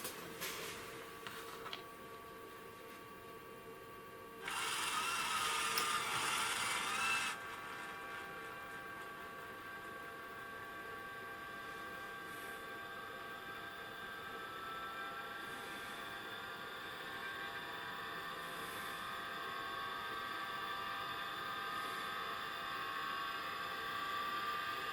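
Collins 332D-11F vertical reference gyro spinning up after power is applied: a steady mechanical whine whose tones slowly climb in pitch, with a short louder broadband rush near the start and no voices.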